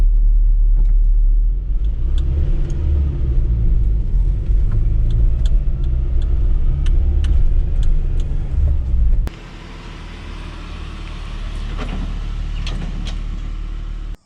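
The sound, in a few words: lowered Nissan D21 truck driving on the road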